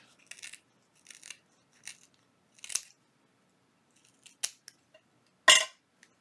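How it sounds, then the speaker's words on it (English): Scissors snip the edges off folded paper for a junk journal flower, giving a series of short, crisp cuts at uneven intervals, close and fairly quiet, with a sharper final snip and no talking. "And then I'm going to cut the edges off."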